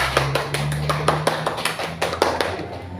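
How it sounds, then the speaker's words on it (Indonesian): A class applauds one student group in a school lesson, a run of steady hand claps from several people, fairly close and alone without talk. "tepuk tangan untuk kelompok 3"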